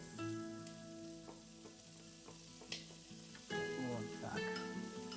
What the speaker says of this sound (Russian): А теперь на выпеке от мяса обжариваем лук.